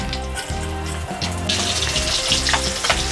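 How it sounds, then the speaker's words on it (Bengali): Pieces of rohu fish frying in hot oil in a pan give off a steady, close sizzle over a low, repeating humming tone, and the crackle grows brighter and busier partway through. "এইভাবে প্রত্যেকটা মাছ আমি ভেজে নেব।"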